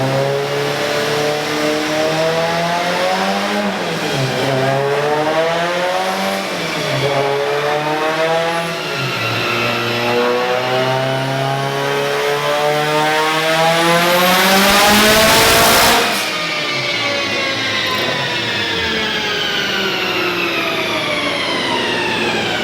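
A Mitsubishi Evo 8 engine revving hard on a dyno, loud and close, its pitch climbing steadily through the gears in repeated sweeps, with a brief louder burst near the end before it settles back.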